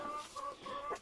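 An ailing, chilled hen gives a few soft, short clucks at close range in a quiet setting. There is no talk.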